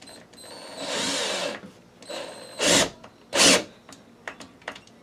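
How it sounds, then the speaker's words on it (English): A cordless drill drives screws into drywall during a damaged-wall patch repair, giving several short whirring bursts, some brief and some longer, close by with pauses between each screw. "How many screws are you putting in here?"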